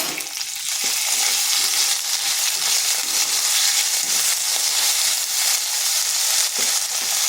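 Potatoes fry with ginger and green chili paste in a pan, giving a loud, continuous close-up sizzle broken by brief stirring scrapes.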